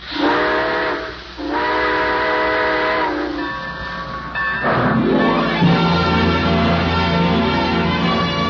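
A steam train whistle blows in two long blasts, followed by the hiss and rumble of the locomotive starting to move off.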